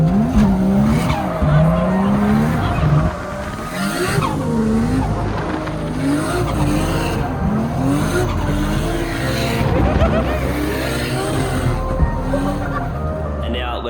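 A 500-horsepower Nissan R33 Skyline drifts at a Calder Park drift event, its engine wailing and rising and falling steadily while tires squeal and skid almost continuously across the whole stretch, loud and close.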